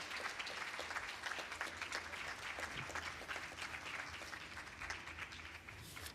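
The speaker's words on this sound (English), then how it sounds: "we would like to give the round, big applause to all of them" Audience applauding the panel members at a hemp environment forum in Kyoto, a steady, even wash of clapping that is faint and distant and continues for the whole stretch without talk.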